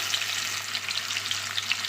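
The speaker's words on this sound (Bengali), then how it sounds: "কড়ার মধ্যে আমি তেলটা গরম হতে বসিয়ে দিয়েছিলাম আর এক এক করে এখন মাছগুলো দিচ্ছি হালকা করে ভেজে নেবো" Hilsa fish pieces fry in hot oil in a wok, giving a steady, close crackling sizzle with fine spattering pops throughout and no voices.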